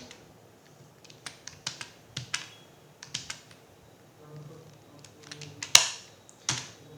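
Irregular bursts of clicky keystrokes tap on a computer keyboard while invoice details are entered, with short pauses between runs and one sharper key press standing out.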